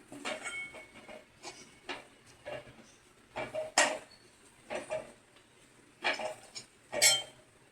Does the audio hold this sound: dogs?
no